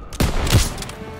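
Gunfire in the World War II shooter game Call of Duty WW2: a loud burst of several rapid, overlapping shots with a heavy low thump, lasting about a second, with no talking over it.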